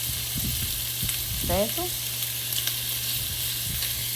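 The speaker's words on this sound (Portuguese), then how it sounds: "E aí eu vou mexendo, para poder começar a fritar e dourar" Chopped meat pieces for feijão tropeiro frying in a pan, a constant close sizzle with soft scraping stirs every second or so, while someone talks briefly over it.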